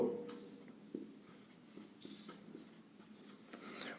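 Pen scratching on paper while writing out a geometry proof in a class 10 maths lesson, quiet irregular strokes and taps close by, with no one speaking.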